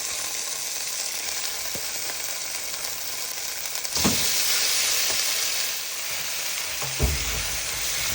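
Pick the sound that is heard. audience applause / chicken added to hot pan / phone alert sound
chicken added to hot pan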